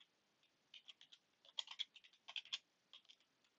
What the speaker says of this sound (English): So I will type adatum/administrator